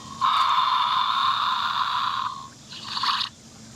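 A Hasbro Jurassic World Dilophosaurus toy gives a raspy, buzzing growl held steady for about two seconds, then a short, fizzy venom-spit hissing burst follows after a brief pause.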